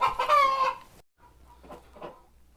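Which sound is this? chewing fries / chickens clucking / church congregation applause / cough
chickens clucking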